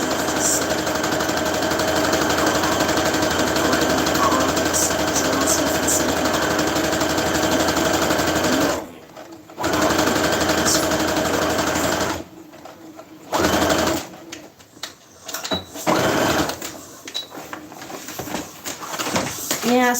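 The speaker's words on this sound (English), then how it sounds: "sewing doesn't do good with audiobooks" A sewing machine runs in a steady fast whirring stitch for several seconds, then stops and starts in short bursts, close and clear.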